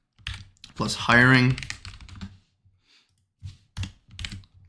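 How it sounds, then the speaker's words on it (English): Quick bursts of typing on a computer keyboard, light clicks scattered between spoken phrases, with a person talking over and between them. "So I'm gonna type it in exactly."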